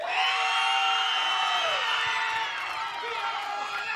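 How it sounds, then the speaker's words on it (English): A crowd cheers and whoops loudly for a contestant called Twin One, a dense sustained roar of shouting voices that fills the space and eases slightly toward the end. "Crowd, do me a favor. Make some noise for Twin One."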